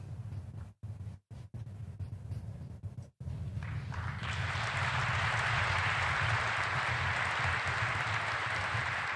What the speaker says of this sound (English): Was it just me or was the clapping perfect?